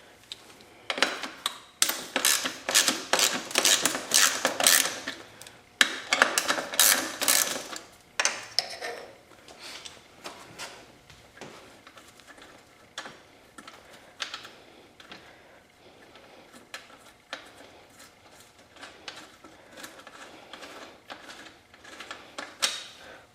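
Metallic ratcheting and wrench clicks come from a 13 mm bolt being worked loose from the subframe of a Yamaha YZ250F motocross bike. Dense bursts of rapid clicking at first, then lighter, sparser tool taps and handling noises, close and clear.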